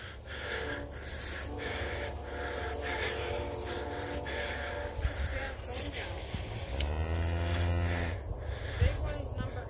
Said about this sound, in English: And then we got this older cow over here.